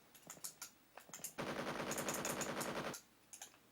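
Rapid automatic gunfire from the Amiga shooter Death Mask blasts enemies in a dense burst lasting about a second and a half, preceded and followed by scattered single shots.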